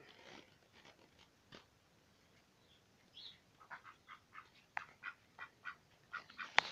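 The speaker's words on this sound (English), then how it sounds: "There's the ducks in their outside pen." Ducks in an outdoor pen give a run of faint, evenly spaced quacks that grow more frequent toward the end, over a quiet, still background.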